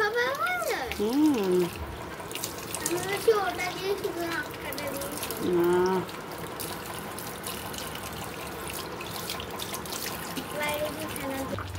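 Running tap water pours steadily into a kitchen sink while things are washed, a continuous trickling splash under a child's chatter and a voice.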